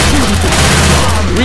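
Left 4 Dead 2 gunfire crackles as a dense, continuous burst of rapid shots, loud and close, with a voice talking over it.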